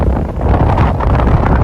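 Wind gusts across beehives covered with shade netting in a South African apiary, a loud steady roar of microphone buffeting that swells and eases without pause.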